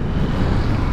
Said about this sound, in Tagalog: Malakas na hangin dito.